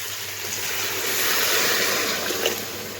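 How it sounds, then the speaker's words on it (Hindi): Two litres of water pour into a pot of mutton paya with tomatoes, a steady rushing splash that swells slightly in the middle and then continues evenly, with no talk over it. "अब हम इसमें ऐड करेंगे पानी।"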